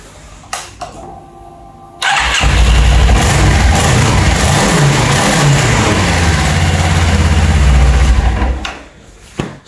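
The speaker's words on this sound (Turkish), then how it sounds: "Tekrardan basıyorum marşımıza." A Suzuki Inazuma GW250F motorcycle, an engine that had trouble pulling and taking throttle, cranks on its electric starter after a few clicks, fires up and runs at a loud, steady idle for several seconds before shutting off.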